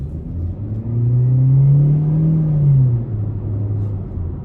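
A 2021 Chevy Spark with a 1.4-liter engine accelerates with the pedal down, a smooth rising engine drone heard from inside the cabin, swelling then easing off, with no talking.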